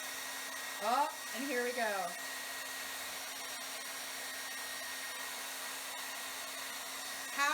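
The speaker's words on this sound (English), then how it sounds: "How you angle your hairdryer will change how it melts." A hair dryer runs steadily, melting crayons, with a constant whine throughout and a woman's brief exclamations near the start and end.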